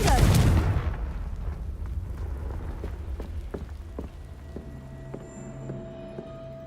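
A Confringo fire spell blast in Hogwarts Legacy on PS5 Pro, a loud booming burst at the start that decays into crackling rumble, with scattered thuds and ringing game tones afterward.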